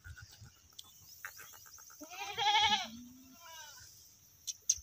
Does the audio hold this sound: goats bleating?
yes